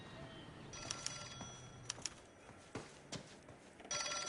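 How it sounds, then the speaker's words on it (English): A telephone rings faintly in the background, repeated bright ringing bursts spread over a few seconds amid a quiet room tone and scattered clicks. "Now my phone's ringing."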